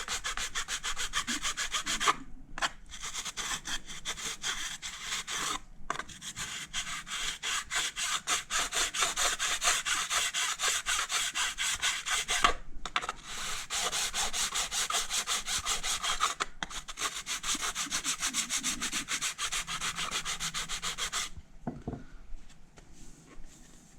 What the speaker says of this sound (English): So we're just going to keep on filing until that is gone.